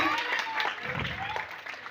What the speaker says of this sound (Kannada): ಜೋರಾದ ಚಪ್ಪಾಳೆ ಬರಲಿ ಪುಟಾಣಿಗಳಿಗೆ